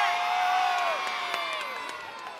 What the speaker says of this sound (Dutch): dan moeten we met z'n allen heel hard juichen